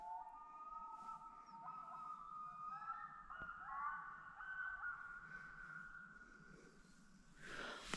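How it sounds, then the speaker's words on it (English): Loons call at night over the water beside a kayak campsite. Their long, wavering wails are faint and distant, drifting over a quiet background with no voices. "The loons have been noisy all night."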